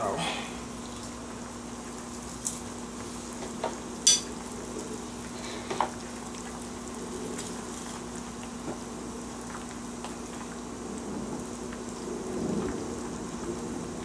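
Chopped onions and red pepper sizzle in a pan of salt cod sauce, a steady, even hiss of frying with a few small pops and clinks, close and moderately loud throughout.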